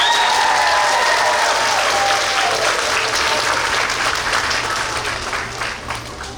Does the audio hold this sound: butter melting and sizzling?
no